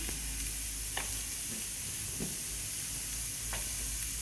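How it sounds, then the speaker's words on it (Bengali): Chopped onion fries in a hot pan with a steady sizzle and hiss, broken by a few faint utensil taps. "এখন দিয়ে দেবো, প্রথম দিয়ে দিতেছি পেঁয়াজ কুচিটা দিয়ে দিতেছি"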